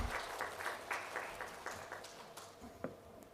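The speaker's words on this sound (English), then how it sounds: "Can we please have a round of applause for Mr. Jaideep Singh?" An audience at a CII startup summit applauds, a dense patter of many hands that starts strong and gradually thins out.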